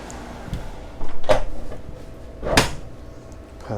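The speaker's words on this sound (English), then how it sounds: "Let me just unclip that door and close it again." A door aboard a superyacht is unclipped and shut, giving two firm thuds a little over a second apart, close and distinct in a quiet interior with no talk.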